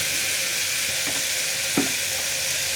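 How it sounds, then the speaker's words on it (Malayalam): Chili and coriander powders are stirred with potato curry base in a frying pan, an even, loud frying hiss throughout with two soft scraping knocks from the spoon near the middle. "ഇതെല്ലാം ചേർത്ത് നന്നായിട്ടൊന്ന് ഇളക്കി കൊടുക്കുക"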